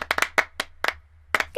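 Sharp, close hand claps for a body percussion rhythm, played as an uneven pattern of single and doubled claps with short gaps between them, crisp and dry.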